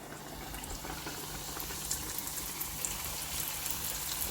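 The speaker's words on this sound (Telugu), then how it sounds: "చూడండి, మంచి పైకి తేలే వరకు ఫ్రై చేసుకొని ఇంకొకటి వేసేద్దాం." Lukmi pastries frying in hot oil over medium heat, a steady soft bubbling hiss with faint crackles running throughout, close and moderately quiet.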